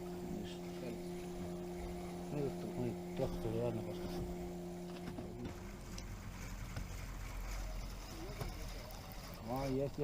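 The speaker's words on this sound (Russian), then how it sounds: "что сегодня лодки разъездились? Уж 3-я лодка" A small motorboat engine drones on a river at a distance, its low rumble swelling partway through while people fishing talk nearby.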